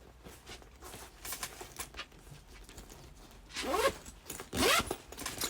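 Zipper pockets on a handmade sewn tote bag being pulled open, two quick rasping zips close by and loud, following a stretch of quieter fabric handling and rustling.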